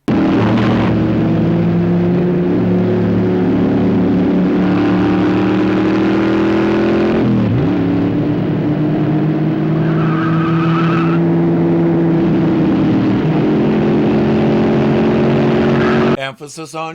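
A big, heavy car drives along a mountain road, its engine droning loudly and steadily throughout with a shifting pitch, tire noise and a brief swoop midway, while a voice speaks over it.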